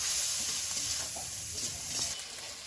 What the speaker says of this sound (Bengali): দেখুন এবারে এই টমেটো হলুদ মশলা কিন্তু একটু কষে নিচ্ছি।